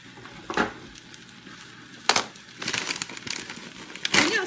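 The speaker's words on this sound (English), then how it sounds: "I'm wrestling with this bag with peas and stuff in it" A plastic bag of frozen peas handled by hand, several sharp crinkling bursts separated by quieter pauses, growing busier toward the end.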